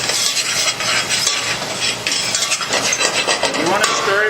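Shallots are stirred in a sauté pan with bacon fat over low heat, producing repeated scraping and rubbing strokes over a soft sizzle, close and steady.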